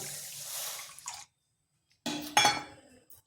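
Sugar and water tipped into a pan for sugar syrup: two short bursts of pouring and clinking at close range, separated by a brief silence.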